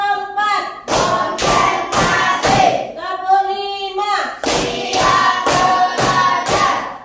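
A group of schoolchildren in a classroom lesson clapping hands in counted sets, sharp loud unison claps in rhythmic bursts with a pause between groups, and voices chanting along.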